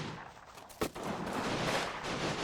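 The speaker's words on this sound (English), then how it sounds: "Thankfully the machine gun in the middle seems preoccupied with shooting down to the right flank." Machine-gun fire in the WWII battle game Combat Mission: Stalingrad, a steady wash of distant gunfire with one sharp louder crack partway through, no talking.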